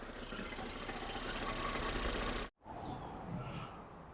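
A Ford Fusion engine with a fault noise runs with a faint, steady mechanical rattle and hum, then cuts out abruptly for a moment before a quieter, duller running sound resumes.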